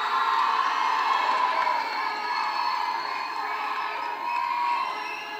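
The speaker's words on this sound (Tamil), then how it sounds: "சந்தானம் அவர்களே ஒரு பெரிய கைத்தட்டலோட" A large audience at a stage event cheers and whoops, with children shouting among the crowd, a continuous fairly distant wash of noise.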